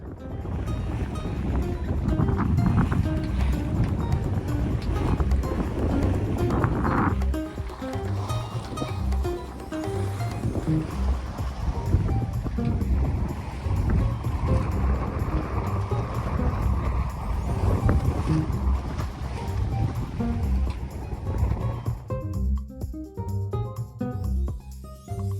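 Constant rushing wind and water noise as a sailboat moves through waves near Holbox, loud and buffeting against the microphone, with no clear voices.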